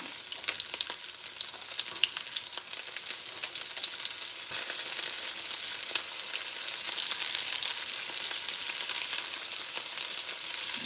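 Yellow and green peppers fry in hot oil in a pan, giving a close, steady sizzle with small crackles that runs the whole time without any talking.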